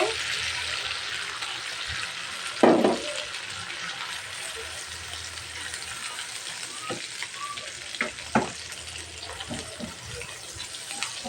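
Steady sizzle of frying in a pan with chicken pasta noodles as egg goes in, broad and continuous with occasional louder scrapes and clinks, no talk.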